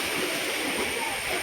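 A small stream beside a temple flows with a steady rushing, gurgling wash of water, close and constant through the brief moment.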